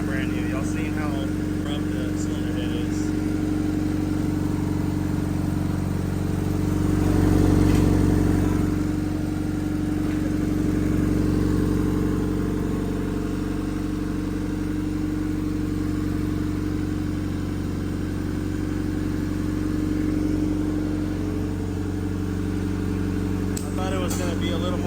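An LS engine with a VTEC head, running on ethanol, holds a steady, fairly quiet idle with an even low hum throughout while someone talks over it.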